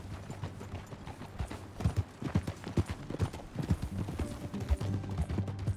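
Rapid, rhythmic clopping of horse hooves at a gallop in the video game Red Dead Redemption 2, steady and fairly loud with a faint low rumble beneath.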